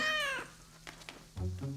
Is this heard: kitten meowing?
yes